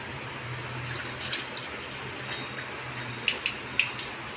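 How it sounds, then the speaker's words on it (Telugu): Water poured off soaked red rice, a low steady trickle and gush with a few small clinks of the vessel, moderately quiet. "నీళ్ళన్నీ వంపేయాలి."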